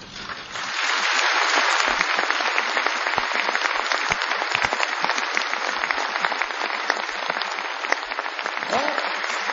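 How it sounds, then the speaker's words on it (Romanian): An audience breaks into sustained, dense applause at a 1989-era Romanian gathering, loud and steady throughout with scattered sharper claps standing out. "Nu vă grăbiți să aplaudați."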